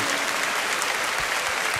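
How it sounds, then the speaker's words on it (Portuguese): A church congregation at a Branham-message revival service in Goiana, Brazil applauds steadily, a dense, even wash of clapping filling the whole short stretch without any voices over it. "Aplaudi o Senhor Jesus Cristo."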